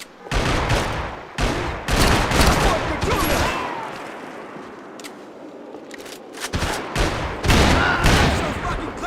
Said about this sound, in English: Shoot him already.